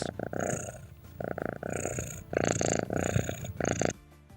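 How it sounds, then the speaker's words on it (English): A cat purring close up, a rhythmic rumbling purr in repeated bursts with short pauses between breaths, fairly quiet and alone. "Let's have some purrs for everybody's pets."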